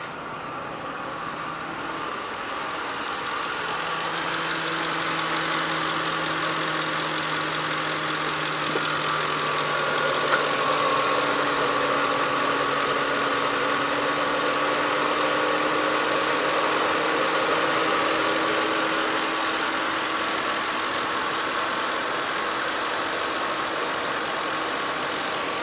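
A Mercury Grand Marquis V8 sits idling steadily, a smooth, continuous low hum with faint mechanical ticking, heard close and alone for the whole stretch.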